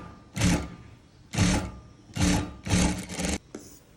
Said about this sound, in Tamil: மற்றதையும் வந்து இதுக்குள்ளே வச்சு தைக்க போகிறேன்